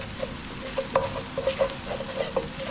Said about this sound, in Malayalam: നന്നായിട്ട് യോജിപ്പിക്കുക.